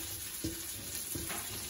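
Onion goes into a pan where garlic has been frying to golden brown for kare-kare, giving a soft, steady sizzle with a few quiet stirring scrapes.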